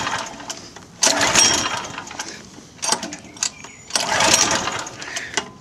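A small engine is yanked with a pull-start cord to crank it up: three rough, whirring bursts of about a second each, separated by quieter pauses, loud and close, with no steady running after the pulls.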